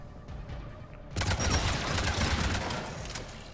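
Rocket launcher fire in a Mass Effect 3 firefight, a sudden loud blast after a quiet moment that leaves a rumbling, crackling explosion tail.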